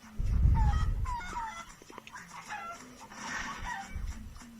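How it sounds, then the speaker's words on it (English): Chickens clucking and squawking in the video game Crash Twinsanity, a string of short close clucks with a louder burst near the start, alone without talk. "So, let's blow all the chickens up."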